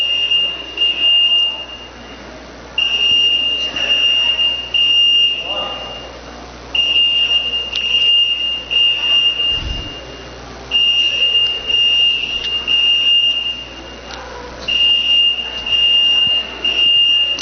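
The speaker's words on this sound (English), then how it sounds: "False alarm." A fire alarm going off during a lecture, sounding as a shrill electronic tone in repeated bursts of about two seconds with short gaps, loud and sustained through the whole stretch.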